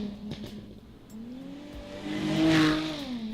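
A Jaguar F-Type sports car engine revs up close, its tone climbing and swelling louder before easing off in one smooth rise over a few seconds.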